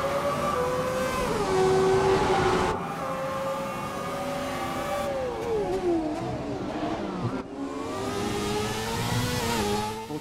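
Toro Rosso and Ferrari Formula 1 cars racing in F1 2017, high-pitched engines screaming and shifting through gears, pitch rising and dropping as they accelerate and brake, loud and continuous with a brief voice over them.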